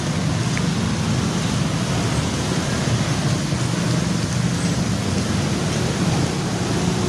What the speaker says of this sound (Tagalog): So guys, parang ang lakas ng ulan na to ha.